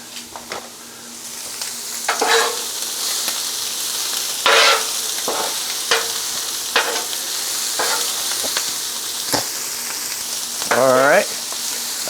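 Shrimp, sausage and vegetables seasoned with Gator Shake sizzle steadily in a pan, with intermittent scraping stirs and clanks over the constant frying hiss.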